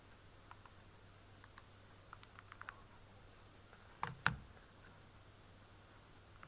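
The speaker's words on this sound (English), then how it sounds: "So let's practice on our calculator. We want to type it in just this way." Faint, sparse clicks of calculator keys being pressed one at a time, with a couple of sharper taps near the end, in an otherwise quiet room.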